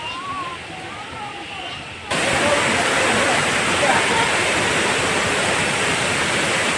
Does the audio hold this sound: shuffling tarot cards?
no